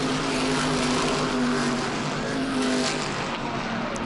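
Race car engine roaring steadily at a New England short-track race as the car gets loose coming out of turn 4, a loud continuous drone with shifting pitch and no talk.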